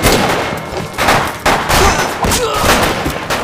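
Rapid bursts of gunfire in a Sino-Japanese war action film, loud and dense, with several volleys and booming shots crowding one another across the scene.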